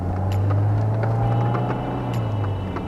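A supercharged 2001 Mercedes-Benz 230 SLK engine hums steadily under load with a whining drone as it accelerates, loud and close, no voices.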